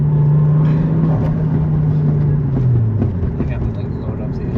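A 1JZ engine in a Toyota Chaser JZX100 hums steadily and close, its pitch dropping slowly as it settles, with a mechanical drone throughout.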